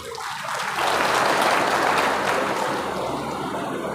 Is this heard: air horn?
no